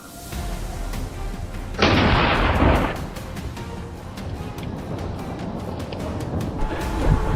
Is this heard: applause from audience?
no